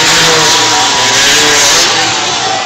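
Freestyle motocross motorcycle engine at an outdoor show in a town square, roaring loud and close with sustained high revving that holds steady throughout, no talking over it.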